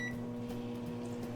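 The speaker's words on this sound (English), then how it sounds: "Now we're just gonna microwave it for a minute and then see what happens." A microwave oven running while a chocolate chip mug cookie cooks, a steady close electrical hum with a constant drone throughout and no talking.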